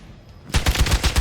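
Rapid bursts of gunfire in a PC video game, five or six sharp shots in quick rhythm starting abruptly after a quiet lead-in, loud and close with no talk over them.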